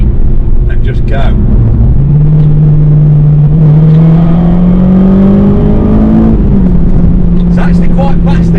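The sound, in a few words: Honda Integra DC5 engine accelerating while driving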